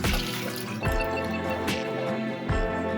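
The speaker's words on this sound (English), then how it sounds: "add enough water to fill the pot" Water from a tap pours steadily into a large pot for making Ghanaian asaana drink, a continuous close splashing and gurgling stream with a few brief bumps, no talking.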